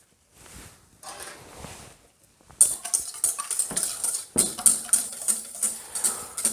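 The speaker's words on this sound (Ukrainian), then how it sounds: "збиваємо 3 яйця разом з цукром" Three eggs whisked with sugar in a bowl: after a soft start, a rapid rhythmic clinking of the whisk against the bowl repeats about twice a second, close and clear.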